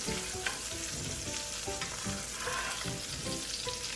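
Steak basting in a pan of sizzling bourbon butter, giving a loud, steady crackle and hiss close up, with spattering pops and scraping stirs throughout and no voices.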